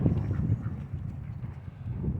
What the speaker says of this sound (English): 3 different kinds of ducks here eating.